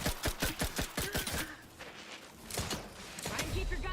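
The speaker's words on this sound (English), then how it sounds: "I'm getting sniped from all sides here." Sniper and rifle fire in the video game Outer Worlds 2: a rapid burst of sharp shots, then a lull, then a few more cracks amid game noise.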